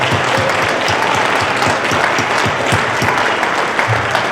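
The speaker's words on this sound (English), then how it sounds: "What a moving performance by the choir. Another round of applause," Dense, sustained applause from a civil rights event audience fills the room after a choir performance, a loud, even crowd of clapping hands with no break.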